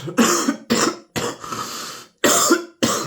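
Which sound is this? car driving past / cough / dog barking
cough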